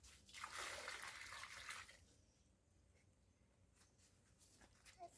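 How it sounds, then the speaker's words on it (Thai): Water pours and splashes onto sand for about two seconds, then fades to quiet trickling and a few soft drips. "เสร็จแล้วเราก็เทน้ำ"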